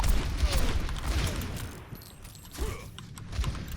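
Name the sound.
gunfire in a video game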